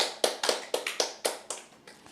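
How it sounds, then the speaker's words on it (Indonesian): Rhythmic clapping from a church congregation at a worship service, nine or ten crisp, evenly spaced claps in a steady beat, fairly close and moderately loud with nothing else heard. "Tepuk tangan buat Tuhan Yesus."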